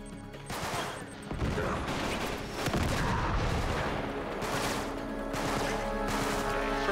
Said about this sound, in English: Shooting the rockets at me.